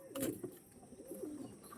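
Soft, low cooing from Andhra breed pigeons repeats a few times close by, with faint background hiss and no speech.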